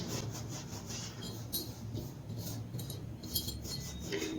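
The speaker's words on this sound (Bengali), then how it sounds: "2 হাত দিয়ে এরকমভাবে একটুখানি ঘষে ঘষে আবার একটু ভালো করে মিশিয়ে নিচ্ছি" Hands rub ghee into a dry flour and semolina mixture for biscuits, giving a soft, steady gritty rustle with light scraping, close and fairly quiet, with no talking.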